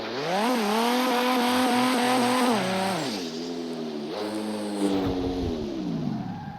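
Racing-game car engine from CarX Drift Racing 2, a loud, steady synthetic drone whose pitch climbs as it accelerates, dips and climbs again, with the revs falling and rising over about six seconds.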